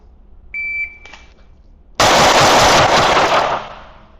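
A range timer beeps, then a Stealth Arms Platypus 1911 double-stack pistol fires a loud, rapid string of shots in under two seconds, close and sharp at short yardage, with echoes trailing off after the last round.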